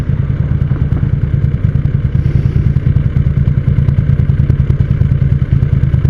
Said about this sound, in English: then you can hear the TL back there. It's just boop, boop, boop, boop, boop